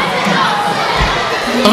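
A loud crowd of students shouts and cheers as they surge across the playing field at a Rockets vs Tigres game, a dense burst of young voices throughout.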